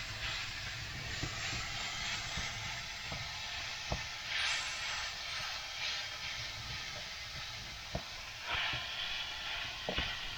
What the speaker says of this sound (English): Sort of fry the mince off, let it brown